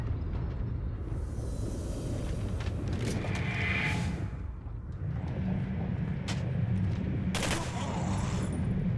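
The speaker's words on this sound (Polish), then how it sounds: "Ale mi wywalił z tej strzelby" Shotgun fire in the game Singularity, sharp blasts cracking over a dense roar of combat noise and rumbling, with a couple of distinct loud shots standing out near the start and end.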